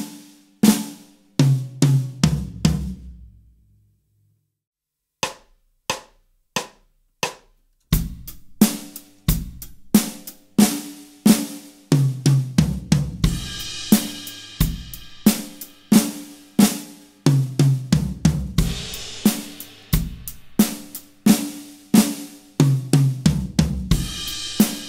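Drum fill on a kit, with flams struck on the snare, then the high tom and the floor tom. The sharp hits repeat in a steady rhythm, loud and close, with no talking.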